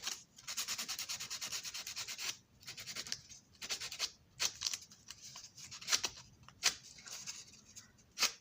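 Sandpaper rubbed by hand on a model MTH passenger car being repaired, a close, rhythmic scratchy sanding in quick repeated strokes, then short separate scrapes with pauses between.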